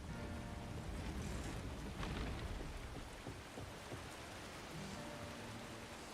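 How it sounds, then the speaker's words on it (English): Rain-like water sound from a video game, a steady broadband wash of falling water with scattered drop patter that runs unbroken for the whole stretch with no talking. "I hear the sounds of water."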